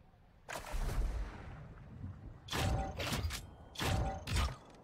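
Gunfire in a shooter video game: several sharp bursts of shots, a long volley early then clustered rapid shots later, fairly faint, with no talk over them.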